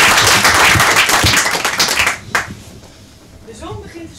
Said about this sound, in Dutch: Mag ik een applaus voor Sophie van der Klashorst